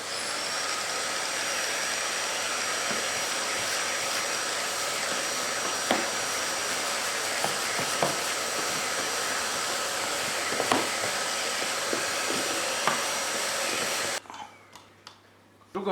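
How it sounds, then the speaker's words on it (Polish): A vacuum cleaner drones loudly and steadily while cleaning the filter of an air purifier, with small clicks and bumps over the motor noise. Near the end it cuts off abruptly and a few handling knocks follow. "Najlepiej przy pomocy odkurzacza."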